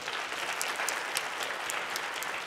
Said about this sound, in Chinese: 请起立，我们一起拍手，我们来欢迎他们。